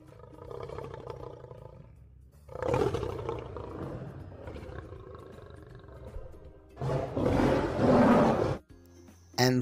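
Lion roaring in several loud, drawn-out bursts, with a rumbling growl building into full-throated roars and a final strong roar near the end.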